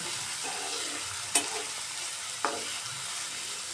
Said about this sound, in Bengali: ভাজিটা ভালো করে ভেজে